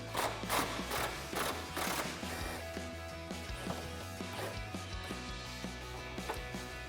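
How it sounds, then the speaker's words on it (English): A ratchet with a 15mm socket works on the upper rear sway bar link bolt of a 2005-2014 Mustang, giving rapid clicking bursts at first that settle into quieter, sparser mechanical ticks beneath a steady low hum. "Now we're going to remove our upper sway bar link bolt in the rear"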